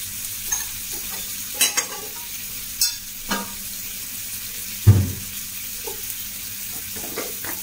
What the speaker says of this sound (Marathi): तेल मीठ मसाला टाकून छान असं फ्राय करून घेते